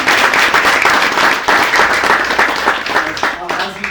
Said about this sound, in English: let's do a fair clapping for her